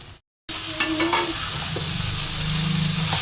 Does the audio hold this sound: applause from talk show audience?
no